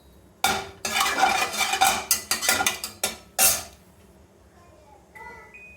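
Cumin and spices get stirred in a pan, a run of close bursts of scraping and rattling metal over a faint sizzle, then a quieter stretch with a brief voice near the end.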